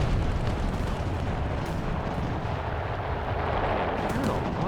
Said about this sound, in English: There's a lot of gunfire still.